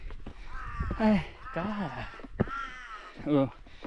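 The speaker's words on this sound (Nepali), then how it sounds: "हामीलाई कागले स्वागत गरिसक्नु भएको छ" A crow caws several times in a harsh, repeated rhythm, close by on a Nepali hilltop, mixed with people talking.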